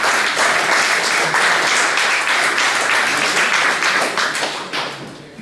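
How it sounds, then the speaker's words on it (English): Sustained audience applause at a convention interview panel fills the whole stretch, dense and steady, tapering slightly near the end. "Round of applause."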